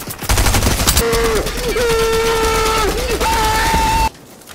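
Rapid gunfire in the video game Fortnite crackles loudly in a dense burst near the start, then gives way to sustained electronic tones and steady game noise until the sound cuts off abruptly.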